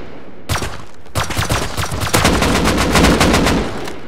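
Gunfire in the video game Rust: loud, rapid automatic bursts of shots, a short volley, then a longer sustained stream of fire, close and dominant with no talking.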